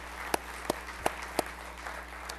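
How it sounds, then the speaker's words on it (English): Applause at a hall of fame event, mostly a diffuse wash with a few sharp, distinct claps standing out at roughly even spacing over a steady hum. "I think we should give them a round of applause because this is a great job"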